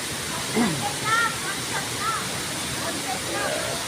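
Tay Tay Falls roars as a steady broadband rush of falling water on a rainy day, with a voice briefly audible over the constant hiss.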